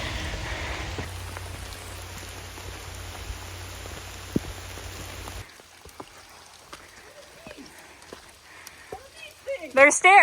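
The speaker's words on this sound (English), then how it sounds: "Oh gosh, it's starting to rain." Rain patters steadily on a mountain trail in the Appalachians near Blood Mountain, a hiss of falling drops that drops off partway through, with people talking and sharp close rustles toward the end.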